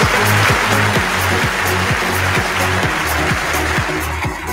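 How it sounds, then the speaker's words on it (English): A live audience at a speaking event claps loudly as a guest is welcomed onto the stage, a dense, sustained round of applause that fills the room, with a repeating music beat underneath. "please do me a favor and give a big round of applause to Mr. Alex Morton."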